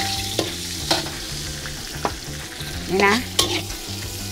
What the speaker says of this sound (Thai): ใส่กระเทียมลงไป